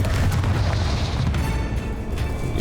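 Bombarda explosion spell in Hogwarts Legacy, a loud sustained booming blast with a deep rumble that holds for the whole stretch before tailing slightly.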